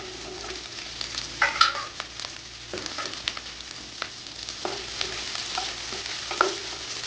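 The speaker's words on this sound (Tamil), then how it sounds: "இப்போ எல்லாத்தையும் சேர்த்து நல்லா கிளறி விடுங்க." Capsicum being stir-fried in a pan for chilli fish, with a steady sizzle and frying hiss and repeated scraping stirs of a utensil across the pan, fairly close and without any talking.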